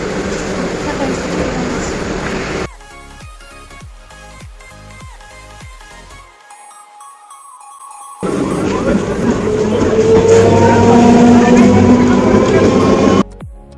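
Inside a moving passenger train, a loud steady rumble of wheels and carriage fills the space, dropping away during a quieter interrupted stretch before returning even louder, with voices heard over it.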